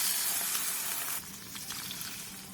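Potatoes bubbling on high heat in a pan of water, soy sauce, syrup and sugar, giving a steady close hiss and sizzle with soft crackles, continuous and without voices.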